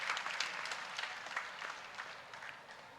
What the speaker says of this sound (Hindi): कितनी सुंदर आप लोग ताली बजा रहे हो